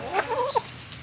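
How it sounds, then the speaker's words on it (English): A chicken gives a few quick, soft clucks close up, a brief burst of bird chatter with no talking. "happy chickens."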